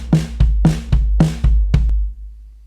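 A short electronic drum pattern alternating snare hits and deep floor tom strikes, about eight sharp hits with ringing tails, ending in a quick roll.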